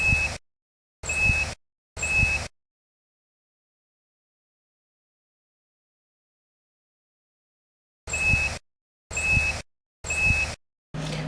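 A MINEORO DC2008 directional metal detector gives short, sharp electronic beeps, three evenly spaced at first and then four more after a long silence, each clear and close.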